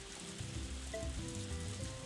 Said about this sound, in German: Es regnet ja permanent gerade.